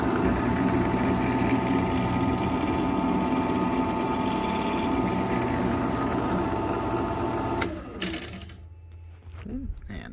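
A drill runs steadily on a rifle gas block, boring a small dimple for the set screw, a continuous close whine with a faint voice underneath, then it stops near the end, leaving quiet handling noises.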